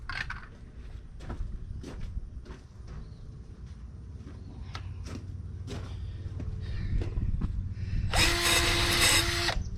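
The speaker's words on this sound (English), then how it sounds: "let me grab my wire wheel" A power drill fitted with a wire wheel deburring the inside of an exhaust elbow part for a 2007 Freightliner Columbia truck, with sharp clicks and knocks first, then a loud, harsh high-pitched grinding burst near the end.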